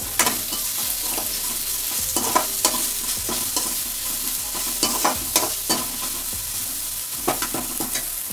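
Crushed ginger and garlic sauté with onion in a pan for an egg curry, a constant crackling sizzle punctuated by regular knocks and scrapes of a spatula stirring the pan.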